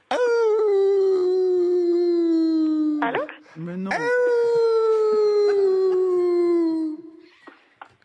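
A man imitates a long, loud wolf howl on a radio comedy show, with two sustained wavering howls broken by a short gap and a brief spoken line in between.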